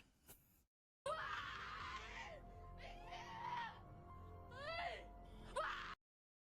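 A woman screams in a scary horror clip, several loud, shrill, wavering cries close up, separated by brief gaps and cut off abruptly at the end.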